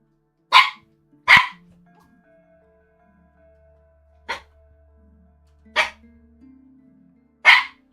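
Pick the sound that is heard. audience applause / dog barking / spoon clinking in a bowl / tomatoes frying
dog barking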